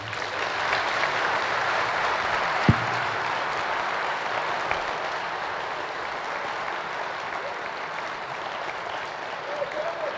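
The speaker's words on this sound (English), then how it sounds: "I'd just like to put out a little poll based on applause" A conference audience applauds an executive panel on leadership marketing in Toronto with sustained, even clapping throughout, broken by a single sharp thump early on.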